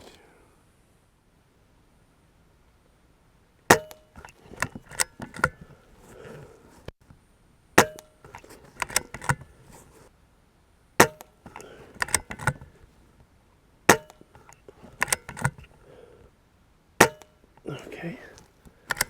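Sharp, evenly spaced shots from a BSA Ultra SE .22 air rifle fired at targets, each a crisp snap with a short metallic ring followed by brief handling clatter, about five shots spread across the stretch with quiet gaps between.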